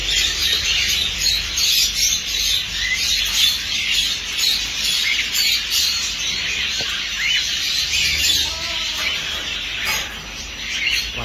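Dense, continuous chorus of caged ornamental finches chirping and squawking inside a bird shop, many high calls overlapping loudly throughout with no clear talking.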